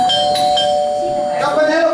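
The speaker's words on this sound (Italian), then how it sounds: "Campanello padrona." A doorbell chimes loud and close, ringing tones lasting about two seconds while a voice talks at the same time.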